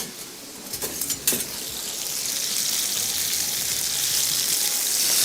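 Chicken breast frying in a pan after a light sprinkle of salt, a steady broadband sizzle that builds and holds, with a few brief clinks and stirring knocks near the start.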